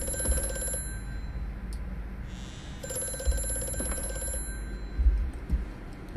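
A telephone in the horror game Amnesia: A Machine for Pigs rings in two bursts of bright metallic trilling separated by a short gap, moderately loud over a low ambient drone.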